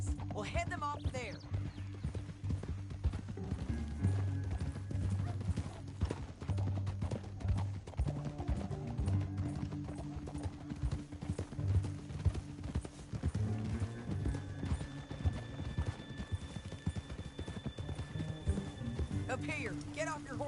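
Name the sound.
horses' hooves clip-clopping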